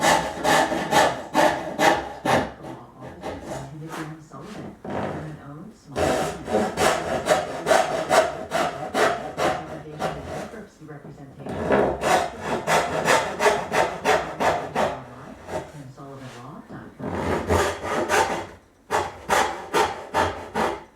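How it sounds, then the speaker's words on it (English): Hand saw cutting wooden tenons for the sides of a curved blockfront dressing table, steady rhythmic back-and-forth strokes in close bursts separated by short pauses, loud and alone. "Cutting the tenons on the other side."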